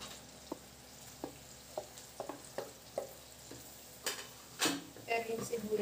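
Onion and chili sautéing in margarine in a pan, a low quiet sizzle punctuated by regular sharp clicks of a utensil against the pan, ending in a cluster of louder scraping knocks, with faint talk in the background.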